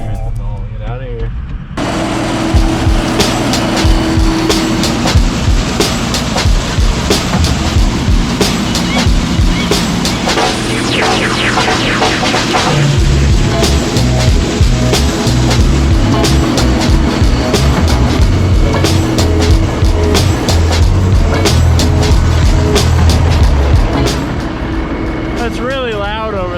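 Farm tractor engine running at full throttle during a bean harvest, a loud steady droning roar close by with shifting low tones, while people talk over it.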